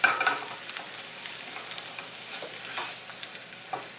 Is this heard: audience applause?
no